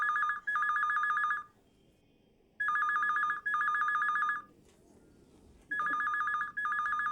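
A telephone rings in repeated electronic double bursts, three rings separated by short silences, clear and fairly close with no one speaking.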